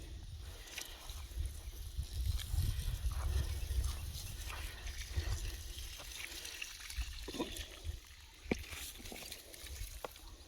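Water splashes and trickles onto garden plants outdoors on a morning. The sound is soft and uneven, with faint patters and drips.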